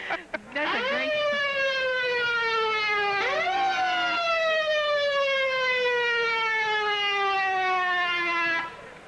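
Brand-new St. Thomas police cars sound their sirens in a 1989 carnival parade in the Virgin Islands, two loud rising yelps followed by long falling wails, close and sustained before stopping suddenly.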